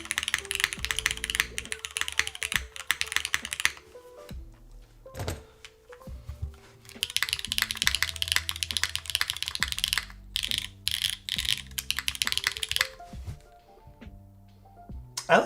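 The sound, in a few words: typing on OF-1 60 mechanical keyboard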